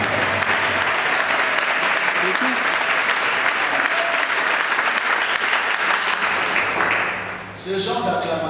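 A church congregation applauds and cheers loudly and steadily, dense clapping filling the space without pause, briefly dipping near the end before swelling again with scattered shouts.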